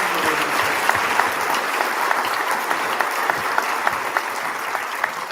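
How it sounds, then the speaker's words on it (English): An audience applauds a student receiving an Outstanding Achievement Award at a National Junior Honor Society induction ceremony, a steady, dense wash of clapping from many hands that holds evenly throughout. "Have one big round of applause for Gabriella."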